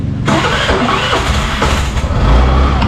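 A 2024 Suzuki Burgman Street 125 scooter engine cranks and catches, then settles into a steady, close idle that rumbles on without pause.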